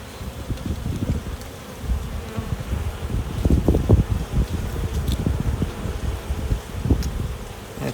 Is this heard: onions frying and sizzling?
no